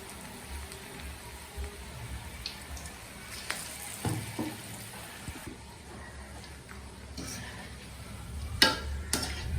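Cabbage pakoras frying in oil over medium heat, a soft steady sizzle with scattered crackles and occasional sharper pops.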